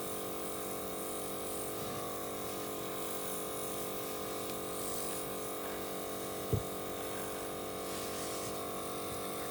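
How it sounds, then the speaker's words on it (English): Airbrush spraying onto cake icing, a steady hissing buzz that holds without a break, close and even, with one brief knock partway through. "I know some people wait till their icing is dry before airbrushing, but as you can see, I don't."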